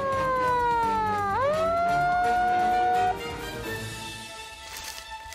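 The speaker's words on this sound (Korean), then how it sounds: "멧돼지를 발견하자마자 차에서 꺼낸 사이렌으로 멧돼지를 위협하는데요." A handheld siren pulled from a car to scare off a wild boar, its wail sliding down and then rising to a steady pitched tone that fades near the end, with no talk over it.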